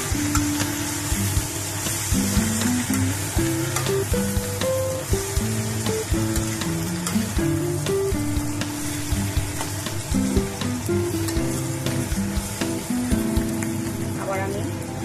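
Potatoes frying with poppy seed paste and green chili paste, a soft crackling sizzle running throughout beneath a voice speaking and occasional utensil taps, close but moderate in level.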